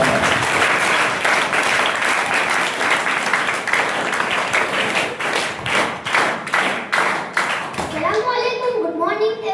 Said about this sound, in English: let's give a big clap for Padaya Mohammed.